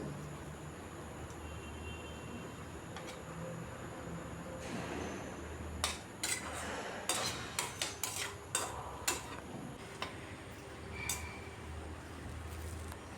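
A metal lid lifted off a cooking pot of simmering potatoes, giving a run of light clanks and clinks around the middle of the clip, close and fairly soft over a steady kitchen hum.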